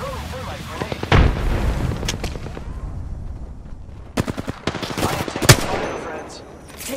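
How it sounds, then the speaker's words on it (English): Bursts of automatic gunfire and impacts in the Apex Legends battle royale game, with a loud burst near the start and a rapid string of sharp shots later, over busy game background. "I am taking fire, friends"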